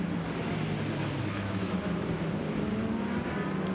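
Vintage racing cars at the Le Mans Classic 2022, among them a Jaguar D-type and a 2-litre Climax-engined car, make a steady, moderately distant engine drone that holds throughout without speech.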